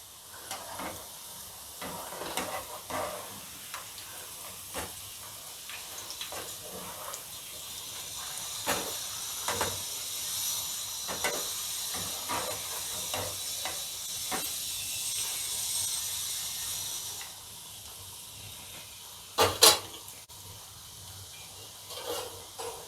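Onion pakoda sizzling steadily in hot oil as the fritters are stirred and turned, a continuous close hiss with scattered scraping clicks and a brief louder clatter near the end.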